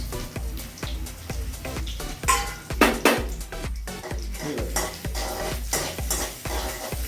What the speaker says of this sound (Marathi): मी आता त्याच्यामध्ये छानपैकी भाजून घेणार आहे जरा तुपात.